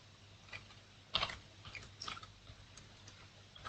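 Quick bursts of keystrokes on a computer keyboard while code is entered, soft and close, a few clustered taps with short pauses between them, no voices.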